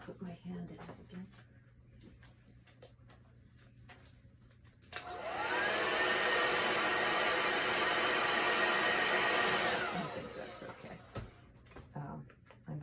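A hair dryer blows on a watercolor painting, starting abruptly as a loud, steady whooshing roar that holds for about five seconds and then cuts off, with quiet room sounds and faint handling before and after.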